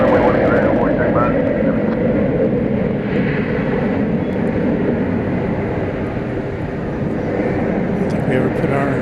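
Airplane engine roaring steadily at DFW Airport at night, a loud continuous broadband rumble that barely changes, with faint talk mixed in.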